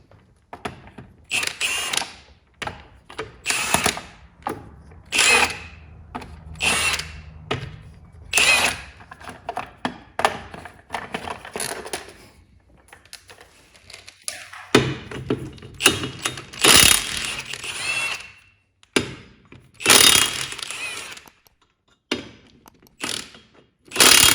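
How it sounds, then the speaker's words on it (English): Steel lug nuts come off a Chevrolet HHR wheel with a 19mm socket and ratchet, giving repeated bursts of sharp clicking ratcheting and metallic clatter separated by short pauses, close up. "using your 19mm, we're going to go ahead and remove the hubcap and then remove the steel lugs"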